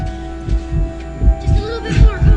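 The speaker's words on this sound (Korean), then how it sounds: "아 심장 소리가 들린다" A steady, throbbing heartbeat in The Last of Us pulses in a slow regular rhythm, low and muffled, over a droning hum with faint voices in the background.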